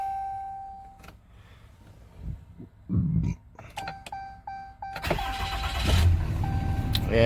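A Dodge 3500 diesel truck with a Cummins engine that has been breaking down: chimes and clicks inside the cab, a button-start crank, then the engine catches and settles into a loud, rumbling idle.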